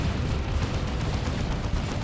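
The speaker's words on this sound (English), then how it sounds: "There's the assault cannon barrage." Dreadnought assault cannon barrage in the Dawn of War 2 real-time strategy game, heard as a dense, loud, continuous roar of rapid heavy gunfire and booming battle noise, steady for about two seconds with no break.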